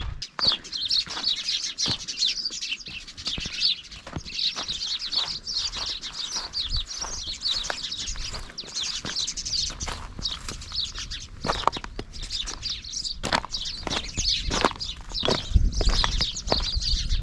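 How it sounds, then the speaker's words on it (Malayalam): Many birds chirp and twitter continuously in a dense chorus among trees at an abandoned archaeological settlement, with scattered rustles and light thumps close by. "മുഴുവൻ കിളികളാണ് കേട്ടോ"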